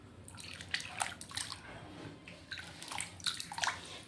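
Potato chip slices are rinsed by hand in a vessel of water, producing faint, close sloshing and splashing in irregular bursts with drips between them, and no speech.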